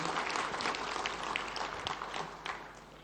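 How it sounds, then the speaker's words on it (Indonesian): Audience applause for competition winners at a formal speech event, a steady, dense wash of clapping filling the whole stretch, fairly loud and continuous without talk over it. "kita berikan aplaus bersama kepada para pemenang perlombaan"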